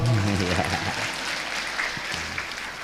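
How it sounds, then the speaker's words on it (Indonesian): Audience clapping at a regional meeting of an Islamic kindergarten teachers' association in OKU Timur, a dense steady patter lasting throughout, with a voice audible near the start. "Tepuk tangan dong."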